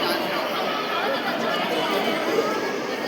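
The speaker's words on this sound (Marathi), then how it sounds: "इकडे लय गर्दी आहे" Crowd chatter at a busy trade fair, a continuous dense babble of many voices at steady loudness, close around the listener.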